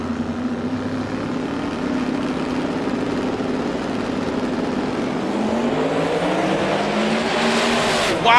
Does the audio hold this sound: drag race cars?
yes